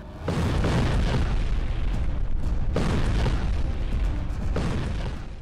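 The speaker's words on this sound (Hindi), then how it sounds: "कैसा धमाका, ऐसी तबाही," A deep, rumbling blast roars out, followed by a second heavy boom, both sustained and loud with a thick low-end roar.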